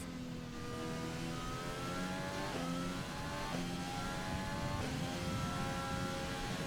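A Formula 1 car engine in a racing video game revs high and steady, pitch climbing then dropping at gear shifts, loud and continuous with no talking.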